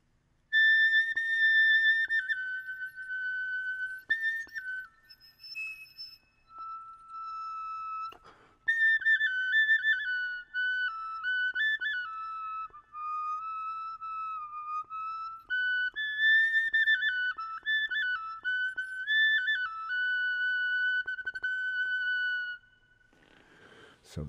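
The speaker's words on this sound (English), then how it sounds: "that's an eagle bone whistle" A three-hole eagle bone whistle with a wax fipple plays a continuous breathy melody of wavering, sliding high notes, close and alone, for most of the stretch before stopping.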